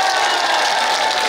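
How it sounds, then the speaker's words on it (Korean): A hospital concert audience claps and cheers together in a loud, dense, continuous wash of applause for a brief moment. "괜찮으시면 그 박수 함성 한번 좀 보실까요?"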